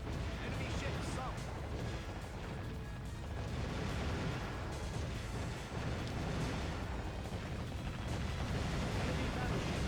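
Enemy ships sunk in the naval combat game Warship Gunner 2, with dense continuous rumbling blasts and gunfire filling the scene, loud and constant, while voices speak over the din.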